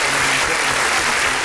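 Steady, loud crowd applause welcoming a guest onto a talk show, a continuous wash of clapping without individual claps standing out.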